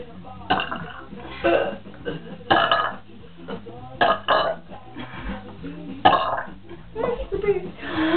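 A girl lets out a series of loud burps in bursts, several close together and others spaced apart, with chatty voices mixed in between.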